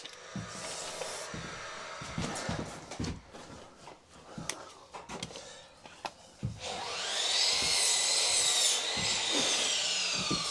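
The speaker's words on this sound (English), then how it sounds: "I'll cut this one fractionally loose and I'll show you." Timber is cut for a garden room build. Knocks and handling noises come first, then a power saw runs loud and close through the last few seconds.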